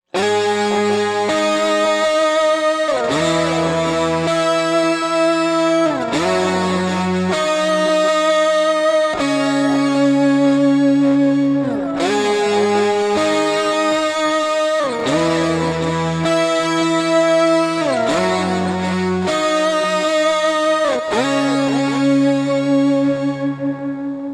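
An electric guitar plays an octave lead through a Line 6 Helix mid-gain preset, with sustained, shimmery distorted notes and sparse chords in a repeating phrase, loud and continuous with no talking.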